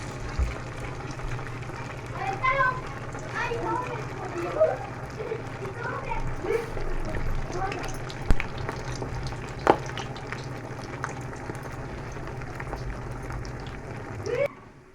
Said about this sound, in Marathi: इथं मस्त असं तेल गरम झालेलं आहे आणि आता चला आपण सगळे तळून घेऊ